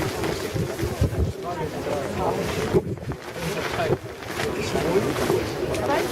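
Wind buffets the microphone in gusty rumbles at Teatralnyi Maidan, with people talking over it.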